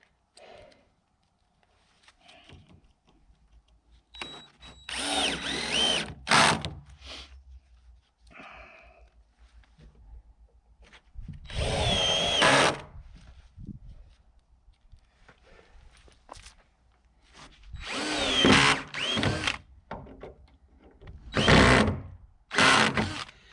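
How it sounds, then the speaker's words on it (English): Power drill driving screws into 2x3 lumber at the corners of a small off-grid pop-up cabin, several separate whirring bursts of a few seconds each, separated by quiet pauses and light handling noise; no talking. "I'm screwing them into this 2x3 that I got"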